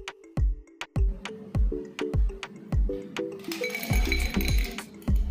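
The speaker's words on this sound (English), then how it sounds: "Take a glass of about 10 ounces or 300 milliliters, and fill it with lots of ice cubes." Ice cubes dropped one after another into a glass of about 10 ounces, a series of sharp, close clinks and clatters in an uneven rhythm, with a brief rattling jumble near the end and no talking.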